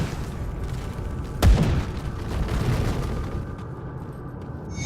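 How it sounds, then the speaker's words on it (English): An explosion in the game Grim Dawn hits as one loud low boom, then fades into a rumbling tail over steady game ambience. "this does have pretty explosions"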